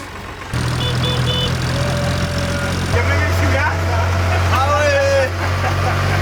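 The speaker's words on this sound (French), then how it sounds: "pour se déplacer dans les vignes, on utilise le tracteur de René" Tractor engine rumbling as it drives through vineyards, a loud steady low drone that shifts pitch partway through, with people talking over it.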